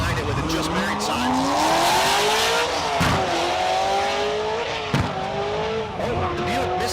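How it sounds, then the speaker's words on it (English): A Buick drag car at the SRCA dragstrip in Great Bend, Kansas, revs loudly and climbs through its gears, a rising engine whine that breaks as it misses a shift, with an announcer talking over the roar. "Oh, the Buick misses a shift and it's kind of wobbly and whatnot"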